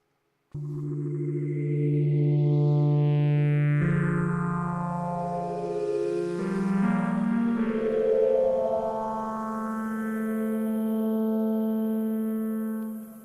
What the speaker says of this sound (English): Starship Scott sounds like this.